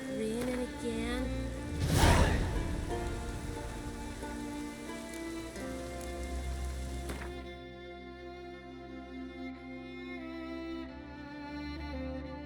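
Steady rain patter in The Witcher 3: Wild Hunt video game, with music-like tonal layers over it, a brief louder swell near the start, continuing evenly throughout.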